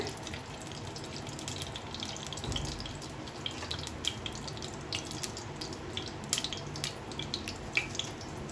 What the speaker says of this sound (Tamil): இப்போ நான் 100 நெய் ஊற்றுறேன்